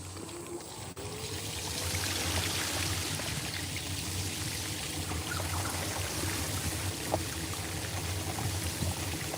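Water streaming and splashing off truck tyres on a muddy forest track, a steady rushing wash that holds at a fairly even level with no talking.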